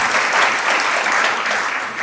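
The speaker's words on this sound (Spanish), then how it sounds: "Damos un aplauso." A church congregation claps together in sustained, even applause, a steady wash of hands filling the room for the full two seconds.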